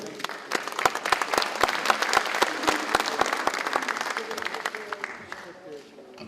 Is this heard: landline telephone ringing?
no